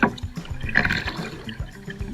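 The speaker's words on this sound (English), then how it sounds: "I'm out on the river." River water flows and trickles close by, a soft, uneven gurgle with small splashes and drips and no voices.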